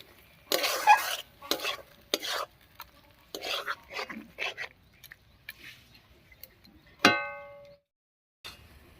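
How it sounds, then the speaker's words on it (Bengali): Spoon stirring sugar, fried cashews and raisins into a thick milk-taro stem curry in a pan, a series of scraping, clattering strokes with pauses and one sharp metallic clink near the end. "এক চামচ মতো চিনি আর দিয়ে দিচ্ছি ভেজে রাখা কাজু কিশমিশ সব কিছু দিয়ে খুব ভালো করে মিশিয়ে নেব"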